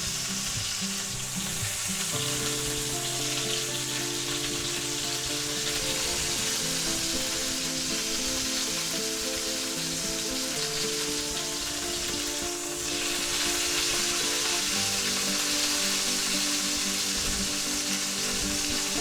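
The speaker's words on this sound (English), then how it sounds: "let's do our edges. Crisp up that nice fat" Fatty edges of a chuck eye steak fry in a pan, a loud, steady, dense sizzle that swells slightly louder toward the end, with no talk.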